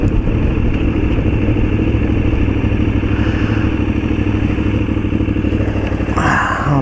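A KTM 990 motorcycle engine drones steadily while being ridden gently, a loud, constant close-up roar with wind rush and a brief rise near the end, no talking.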